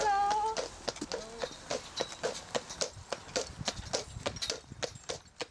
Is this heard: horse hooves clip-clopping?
yes